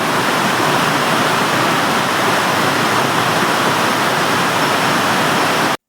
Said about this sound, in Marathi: पाऊस बघा किती पडला इथं पाणी भरले पूर्ण इथं आणि पाऊस चालूच आहे